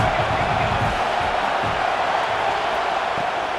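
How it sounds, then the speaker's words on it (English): Video game college football stadium crowd roaring ahead of a big third-down play, a constant thick wall of cheering and noise beneath a commentator's voice. "Big third down as the crowd gets behind this defense."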